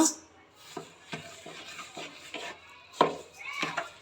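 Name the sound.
stirring banana halwa with ghee and sugar in a pan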